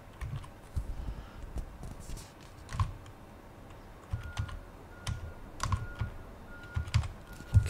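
Keys tapped on a computer keyboard while a serial number is entered during setup of a Hikvision IP PoE intercom. Close, irregular clicks come in short clusters with pauses, and no voices are heard.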